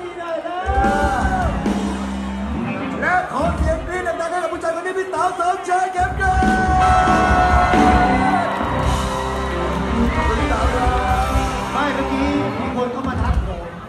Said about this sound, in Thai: ขอเสียง กรี๊ดดังให้นักดนตรีหน่อยนะ